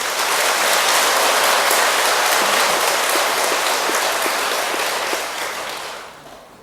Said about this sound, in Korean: 우리나라 대통령에게 박수 한번 보내주십시오.